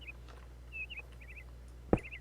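Bird calls in a Minecraft Tolkiencraft modpack world: several faint, quick chirps and trills over a low steady hum, followed by one louder tap near the end.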